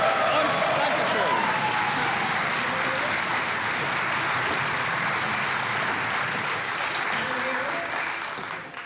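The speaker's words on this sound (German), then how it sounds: "Und Applaus, meine Damen und Herren." Studio audience on a German television talk show applauds steadily and loudly for nearly nine seconds, a dense wash of clapping that tapers slightly at the end, with a voice speaking over it.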